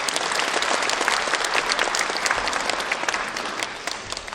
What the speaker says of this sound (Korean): 멋진 공연을 보여준 브리즈 여러분께 다시 한번 큰 박수 부탁드립니다